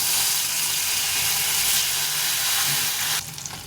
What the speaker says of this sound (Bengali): মাছগুলো ভেজে নেব ভালো করে